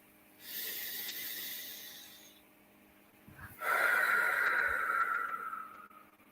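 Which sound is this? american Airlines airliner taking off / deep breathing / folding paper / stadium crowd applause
deep breathing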